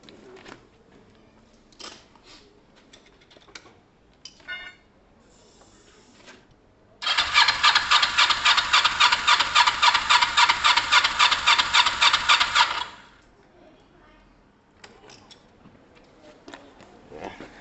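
A Kawasaki ER5 motorcycle engine with a spark fault cranks without firing, a close, loud, rapid whirring starter rhythm lasting about six seconds, with brief talk and clatter before and after.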